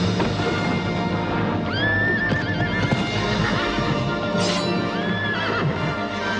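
A horse neighs loudly in a film about a wild horse, with several rising and falling whinnies over a busy, full soundtrack, along with hoof clip-clops, close and prominent, with no talking.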